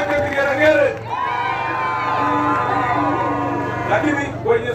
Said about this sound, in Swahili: Pigia makofi hapo kidogo. Wanawake vigeregere.